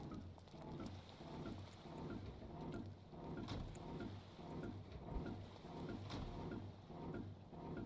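A heavy boat or submarine engine in the video game Stormworks starts up and runs with a low, pulsing rumble, steady and fairly loud, mixed with rain- and wind-like wash throughout.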